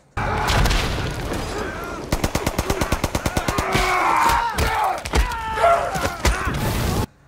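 A battle scene from the film Hacksaw Ridge, with soldiers clashing amid rapid machine-gun bursts, heavy booms and thuds, and shouting voices over a loud, dense din.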